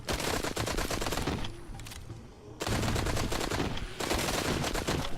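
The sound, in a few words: two fully automatic weapons firing, Arizona Sunshine video game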